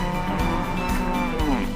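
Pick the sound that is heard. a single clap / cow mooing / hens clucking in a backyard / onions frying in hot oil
cow mooing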